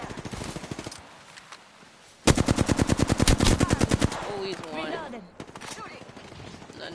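Rapid automatic gunfire in Apex Legends: a dense burst of around twenty sharp, loud shots, bracketed by scattered game sounds, with voices talking before and after.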